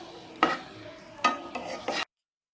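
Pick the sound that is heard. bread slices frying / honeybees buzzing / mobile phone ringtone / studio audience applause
bread slices frying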